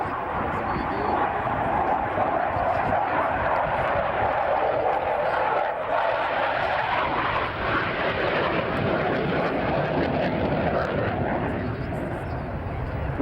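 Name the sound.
airshow aircraft Misdemeanor flying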